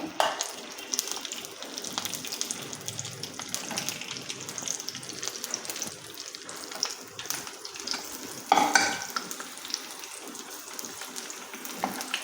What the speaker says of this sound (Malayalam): ഞാൻ ഈ വെണ്ടയ്ക്ക കഷ്ണങ്ങൾ ഇതിനകത്ത് ഇട്ടിട്ടൊന്ന് വഴറ്റിയെടുക്കുന്നുണ്ട്